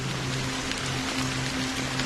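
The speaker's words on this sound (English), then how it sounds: "Why did this rain choose me?" Steady rain falls in the video game Honkai: Star Rail, a dense, even hiss across the whole stretch with a faint sustained low tone beneath, no voices.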